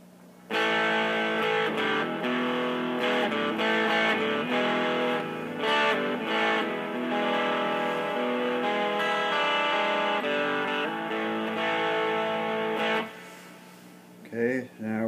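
Electric guitar played through a 1980 MXR Distortion Plus pedal with the distortion set around noon, producing a loud, sustained overdriven tone with fast, busy neoclassical-style lead phrases that stop abruptly near the end, no voices.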